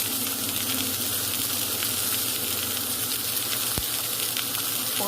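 Steak frying in butter in a pan gives a dense, constant close sizzle with scattered spits and crackles, loud and even, with one sharp knock near the end and no voices.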